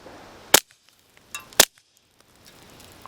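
Two sharp, close gunshots from a Taurus TX22 Gen2 .22 pistol firing 36-grain rounds, about a second apart, with a fainter crack just before the second and quiet between.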